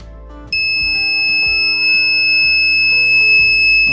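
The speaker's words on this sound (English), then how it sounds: "buzzer start beeping to detect fire." A homemade 555 timer temperature alarm built with a thermistor, resistor, BC548 transistor and capacitor sets off its piezo buzzer, which beeps a steady high electronic tone loudly and continuously. The beeping starts after a brief quiet moment and sounds close and without a break.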